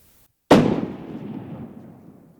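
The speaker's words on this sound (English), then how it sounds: "I'm gonna shoot when he gets in that clearing" A single loud rifle shot fired at a mountain goat while hunting in the Montana mountains cracks suddenly after a short silence, then rolls off in a long, fading echo across the terrain.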